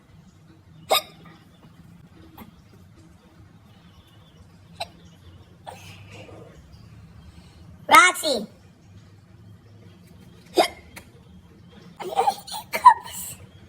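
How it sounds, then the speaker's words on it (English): Several sharp, isolated hiccups come at irregular intervals against a quiet room, with a cluster near the end, and a voice briefly calls out between them. "Hiccups."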